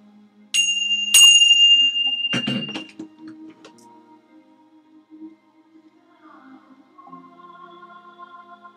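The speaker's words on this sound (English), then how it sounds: "And now we ring our Tibetan bells for unity and peace in the cathedral of God" Tibetan bells are struck in a quiet room: two bright metallic strikes ring out and fade, followed by a duller clunk and softer, lingering tones.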